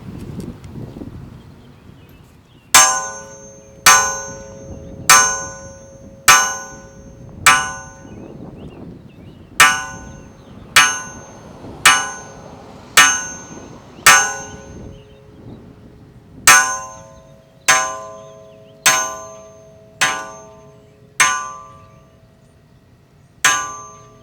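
Fire station bell struck in measured sets as a line-of-duty-death memorial signal on Firefighter's Day, loud metallic clangs ringing out in slow evenly spaced groups, each ringing tone decaying before the next strike, over quiet outdoor background.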